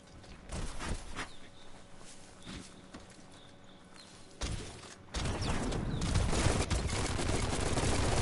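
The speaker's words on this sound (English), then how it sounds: "Bullets everywhere" Video game gunfire in Biomutant near a Myriad tribe outpost: scattered sharp shots crack at a moderate distance, then a dense, sustained burst of rapid fire builds and continues to the end.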